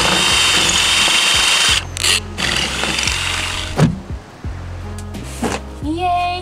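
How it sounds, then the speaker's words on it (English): A power drill bores holes into a van's metal roof: a loud, continuous high whine from close by that stops and restarts in short bursts, with clunks of handling between runs. "It is so nerve-wracking hearing Nate drilling holes in our roof"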